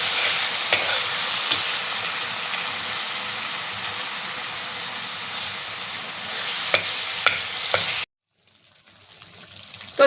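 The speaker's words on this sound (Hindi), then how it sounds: "अब मैं इसको भून रही हूँ।" Kata kat mixture fries and is stirred with a ladle in a pan, a steady hissing sizzle with occasional scraping clicks, cutting off abruptly near the end before faint noise returns.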